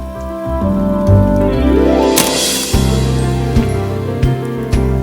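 Cartoon rain falls steadily with a soft hiss beneath a tuneful musical score, joined by a falling sweep and a few sharp accented hits.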